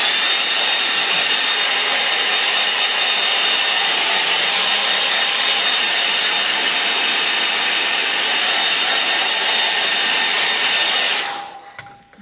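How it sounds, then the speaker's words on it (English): Hairdryer blowing over a watercolour snow scene painting, a loud steady roar with a whining tone that runs unbroken for about eleven seconds, then cuts off abruptly. "I'm going to dry it with a hairdryer because I want to put in some bit of rigger work in there."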